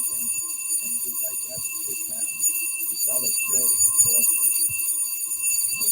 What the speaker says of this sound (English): I'm to keep pulling the fire alarm until a fireman gets the sheriff here.